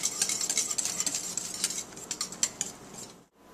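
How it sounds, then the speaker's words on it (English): A mixture laced with rose water is whisked briskly in a bowl, the whisk clicking and scraping against the sides in a steady rhythm, close up with no voices, before stopping abruptly near the end. "Just whisk it in."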